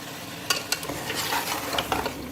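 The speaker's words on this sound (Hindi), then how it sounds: "अब इसे भून लेंगे अच्छी तरह।" Whole garam masala spices frying in a pan: star anise, black cardamom, black peppercorns, cloves, cinnamon and cumin sizzle steadily while a spoon stirs and scrapes with a few sharp clinks.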